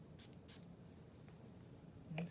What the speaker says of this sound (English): let me spray it on my hand.